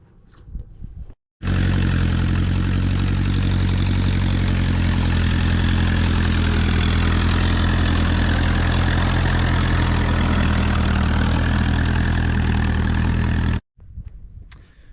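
A Ferguson tractor engine idles loudly and steadily for about twelve seconds, a close, constant low chugging rumble that starts and stops abruptly, with no one talking.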